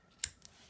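Scissors snipping crochet yarn while finishing a scrunchie: one sharp, close click followed by a fainter second snip, brief and quiet.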